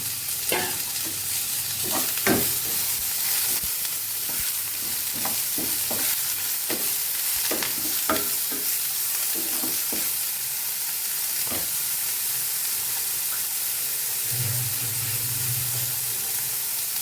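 Eggplant pieces and 4-5 chillies frying in a pan with rice, a steady bright sizzle throughout broken by repeated scraping stir strokes of a spatula, close and alone.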